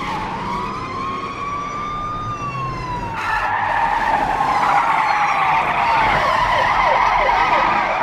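A car in the video game Trump Castle 3 revs and pulls away with a rising engine whine and tire skid, the engine note climbing loudly as it drives off.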